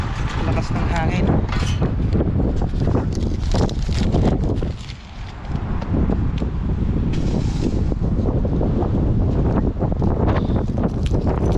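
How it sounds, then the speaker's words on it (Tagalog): Strong wind buffeting an outdoor microphone in Canada, a loud continuous roar and rumble with gusty flutter that dips briefly midway, a voice speaking now and then underneath. "Lakas ng hangin."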